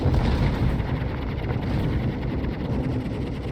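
A dense, loud low rumble of warship gunfire and shell impacts in the video game World of Warships, sustained and noisy without distinct separate shots, like continuous naval battle roar.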